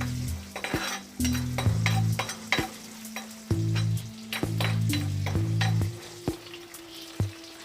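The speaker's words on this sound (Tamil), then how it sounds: "நல்லா ஃப்ரை ஆகட்டும்." Small shallots sizzle in oil in a pan for tamarind curry, with a steady frying hiss broken by repeated scraping stirs and sharp clinks of a metal spoon against the pan.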